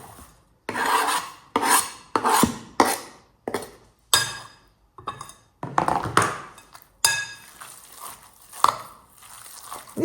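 Minced meat with black pepper, ground coriander, dried garlic and chopped herbs is worked by hand, a close series of short rubbing, squelching bursts repeating in an uneven rhythm, with no talk.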